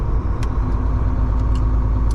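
A truck engine runs loud and close at a steady idle, a deep continuous rumble with a few faint metallic ticks on top.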